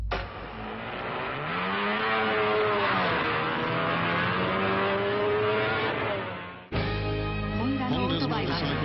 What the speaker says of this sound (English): Honda's motorcycles screamed around the course, which stretched 60 kilometers per lap.